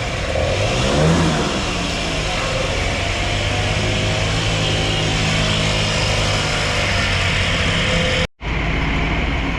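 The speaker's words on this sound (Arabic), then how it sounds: "طبعا اشتغلت الدراجه، صار شغاله وجاهز" A motorbike engine just repaired with a new spark plug cap runs steadily and loudly, with a rising rev near the start, then a sharp brief cut and restart near the end.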